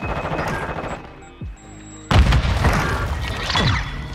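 M16 rifle gunfire in Modern Warfare 2, sharp loud shot bursts at the start and again after a brief lull, with a heavier boom-like crack and game effects following, close and dense.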